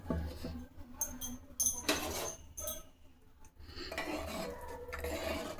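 Metal clanks and scraping of a pressure cooker lid being handled and twisted open after cooking, with utensil clatter in a quiet kitchen.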